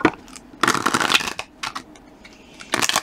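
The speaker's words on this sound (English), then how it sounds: "Give me one more shuffle here." Tarot cards are shuffled in several short, crisp riffling bursts separated by brief pauses, close and fairly quiet.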